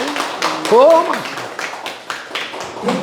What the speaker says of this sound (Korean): 좋은 질문 한 번 박수 한번 칠까요?